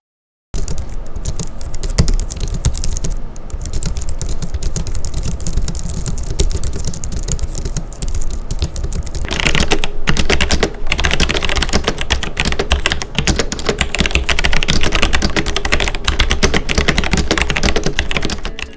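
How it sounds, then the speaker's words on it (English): Typing on a Logitech MX Keys low-profile keyboard, then on a Logitech G Pro mechanical keyboard: dense, rapid, close keystrokes that grow louder and clickier partway through, with no talking. "I'm going to let you hear what this keyboard sounds like versus this Logitech G Pro mechanical keyboard"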